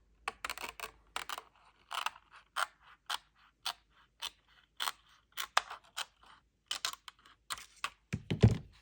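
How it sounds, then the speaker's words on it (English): Scissors cutting an acetate sheet to size for an arched accordion Christmas folio frame, a series of crisp, close snips spaced about half a second apart, ending with a heavier thunk. "So I'm just going to trim this acetate to match my frame."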